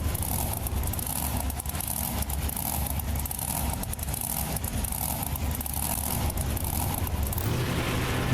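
A monster truck's engine in BeamNG Drive rumbles continuously at a stadium event at Lincoln Financial Field in Philadelphia, a loud, rough, noisy roar that shifts slightly near the end, with no talk over it.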